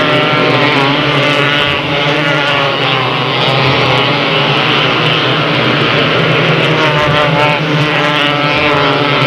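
Race cars at Delta Speedway, an oval track, roar together in one loud, steady engine drone that holds with little change throughout and no talking.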